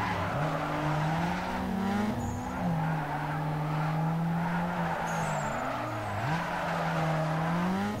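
A street car drifts in Need for Speed Underground 2, its engine holding a steady drone while tires squeal in long continuous skids that bend up and down in pitch across the whole stretch, with no talking.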